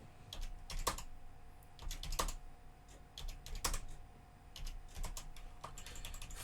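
Brisk typing on a computer keyboard, with irregular bursts of clicky keystrokes and short pauses between them, close and fairly quiet with no talking.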